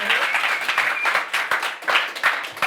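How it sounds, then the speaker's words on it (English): Steady, enthusiastic applause from a sizable audience, dense clapping throughout with no pauses. "So huge round of applause."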